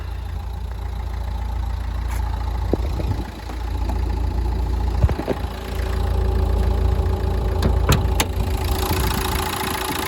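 A 2012 Nissan Qashqai 1.5 dCi diesel engine idles steadily with a low rumbling drone and faint knocking, close by, with a few light clicks and no voices.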